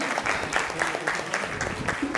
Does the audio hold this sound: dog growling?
no